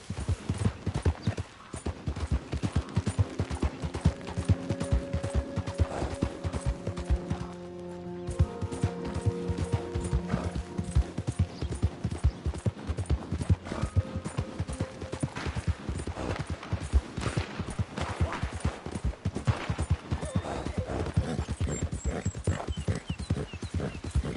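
A horse gallops steadily in a video game, hooves clip-clopping in a fast, even rhythm throughout, with occasional crashes and brief faint voices over the hoofbeats.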